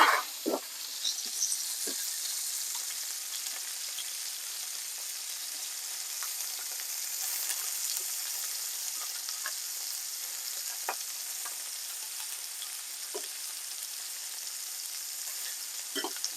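Moroccan meatballs fry in plenty of oil in a pan, giving a bright, continuous hissing sizzle with occasional small pops and taps throughout.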